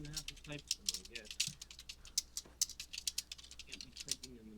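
Quiet, rapid typing on a computer keyboard, irregular clusters of light clicky keystrokes close to the microphone, with faint low voice sounds in between.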